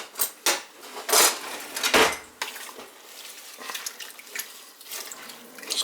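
Hearty stew stirred in a pot: a spoon scrapes and knocks against the metal in several close, uneven strokes, with faint wet sloshing between them.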